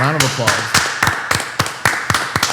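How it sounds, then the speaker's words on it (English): A small crowd claps in a round of applause for basketball coach Bruce Pearl, sharp separate claps at an uneven rhythm, close and loud, with a voice talking over the start. "Bruce Pearl, round of applause."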